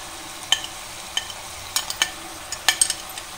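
Rohu fish curry cooking in a pan with a soft low sizzle, broken by scattered sharp clinks and scrapes of a spoon against the pan, close and fairly quiet with no voices.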